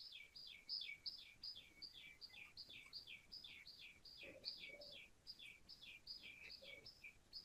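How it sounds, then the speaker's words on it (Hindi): Small birds chirp nearby in quick, repeated high-pitched phrases that run through the whole stretch, with a few lower calls mixed in, faint and without speech. "चिड़िया बोल रही है किसी की,"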